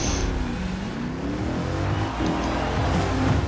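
Several race cars in Forza Horizon 4 roar off the line together at a race start, engines droning and revving steadily with shifting pitch, a continuous loud mechanical chorus throughout.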